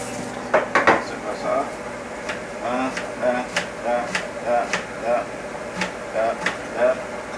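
A knife chops an onion on a board in a home kitchen, roughly a dozen sharp, evenly spaced knocks heard close up, with a voice talking over some of the cuts.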